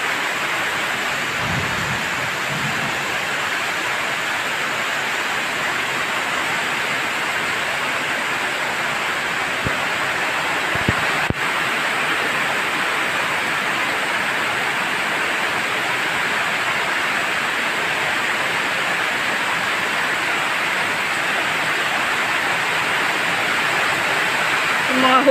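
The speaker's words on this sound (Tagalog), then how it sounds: "lakas ng ulan today." Heavy rain pours down steadily as a dense, loud, unbroken roar of falling water lasting nearly half a minute, with only a few faint knocks and thumps nearby.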